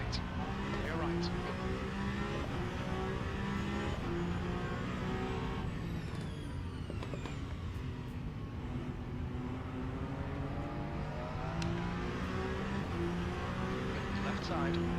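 Race car engines from the Le Mans Ultimate racing game drone loudly and continuously in multiclass traffic, rising and falling with shifts, while a voice gives spotter calls over them.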